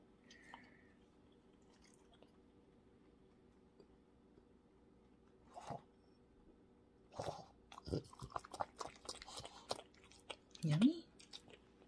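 An 18-month-old blue French Bulldog chews its food in scattered, moist crunching bites that grow busier toward the end, while a person talks softly nearby.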